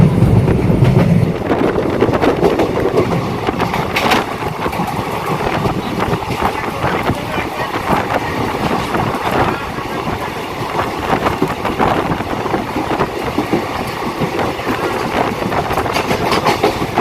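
The 22502 Bangalore Express runs on the Tinsukia to Agartala route, heard from on board in rainy weather as a loud, steady rumble with rhythmic clatter of wheels on the rails and gusts of wind noise throughout.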